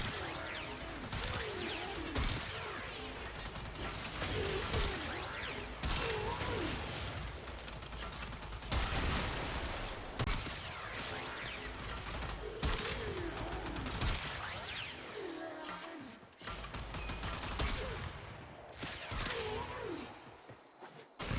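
The Kuva Zarr cannon in the video game Warframe fires repeatedly, loud booming shots and explosions recurring every couple of seconds over a dense, continuous wash of battle noise.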